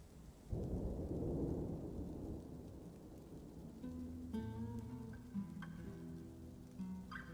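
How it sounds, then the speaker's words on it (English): Rain and thunder from the Dwarf Fortress video game: a deep, rolling rumble of thunder over steady rainfall, followed by soft ambient tones as the rain keeps falling quietly. "I'm just listening to these lovely rain sounds."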